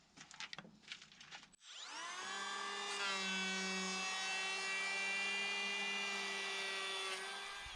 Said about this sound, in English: But I'm going to keep planing it down to size and give it a try.